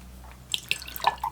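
Watercolor brush rinsed in a water jar while painting a miniature, giving a few close, soft drips and light splashes with small glassy taps, quiet and spaced across a second.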